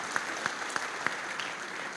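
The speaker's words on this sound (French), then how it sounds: "On peut les applaudir, monsieur le ministre, n'est-ce pas?" Audience clapping at an industry conference in a hall, a steady patter of many hands with a few louder individual claps standing out, no voices over it.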